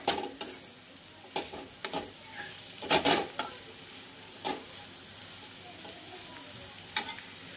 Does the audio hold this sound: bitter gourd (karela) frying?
yes